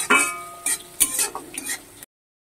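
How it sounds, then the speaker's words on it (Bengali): Onions frying in a pan over medium flame, stirred with a utensil that gives a few close scraping and clinking strokes over a soft sizzle before cutting off. "এভাবে পেঁয়াজটাকে আমি লাল লাল করে ভেজে নেব।"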